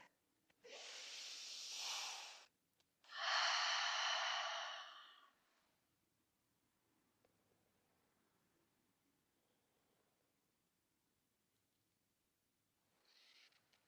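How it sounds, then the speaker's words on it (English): Two long, slow breaths during a yoga stretch, an airy inhale followed by a fuller exhale, close and soft, then quiet with a faint third breath starting at the end. "One more slow, steady breath."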